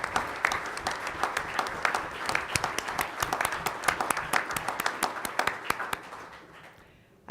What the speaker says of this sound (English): I would love to have everybody who was involved in writing this report stand up and receive a round of applause.